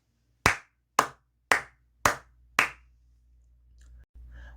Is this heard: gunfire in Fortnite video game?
no